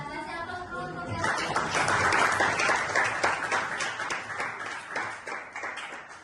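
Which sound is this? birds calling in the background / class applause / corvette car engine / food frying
class applause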